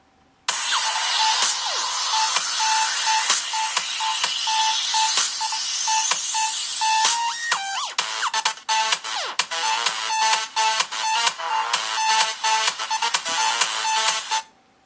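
A small phone speaker, a Moto phone's stock speaker, plays bright, busy music continuously and fairly loud, with a thin, tinny tone and no voices.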